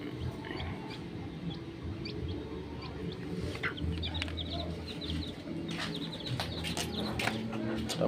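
Golden Boy cross gamefowl roosters clucking and chirping softly in an outdoor pen, scattered short calls over a low background hum.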